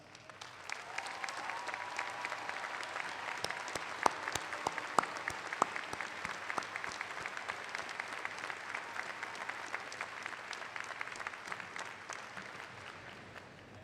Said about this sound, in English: I would now like to ask the rest of East Brunswick's teaching faculty to please stand up and be applauded